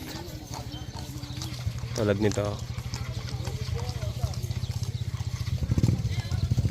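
Horse hooves clop steadily near a racing starting gate where imported horses are being loaded, a quick rhythmic clatter under continuous talk, with a short whinny-like burst midway.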